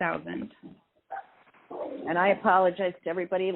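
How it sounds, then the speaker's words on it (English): A rowdy pet dog barks and yips in a home setting, short bursts breaking in between stretches of close, steady talking on a phone call. "I've got a rowdy dog"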